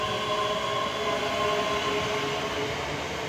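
A Class 385 electric train pulls out of Edinburgh Haymarket station, a loud, steady rumble of motors and wheels with a faint electric whine, heard alone without talk.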